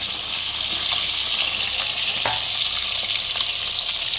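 Fish frying in oil in a pan on a gas stove in a home kitchen, a loud, even crackling sizzle up close with a single sharp clink partway through and nobody speaking.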